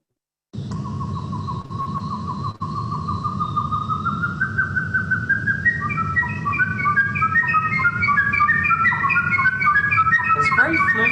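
A lyrebird mimics a flute song in a territorial whistle display, with clear, pure whistled notes rising and stepping through melodic phrases. The song grows fuller and more ornate, loud and near over a low background hum.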